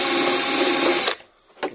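A power drill bores the first hole in a Traxxas X-Maxx RC car body, whining loud and close for about a second before stopping. A short tap follows moments later.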